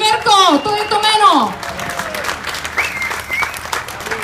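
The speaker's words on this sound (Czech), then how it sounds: "Takže velký aplaus" Crowd applause at an award ceremony for a junior champion, steady clapping throughout with a voice speaking over the start.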